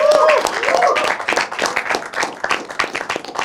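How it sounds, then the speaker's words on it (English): A live studio audience claps in a brisk round of applause, loud at first with a cheer or whistle, then thinning into scattered, uneven claps that trail off. "big round of applause. Our lovely live audience."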